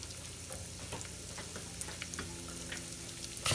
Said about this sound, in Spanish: Y lo vamos a freír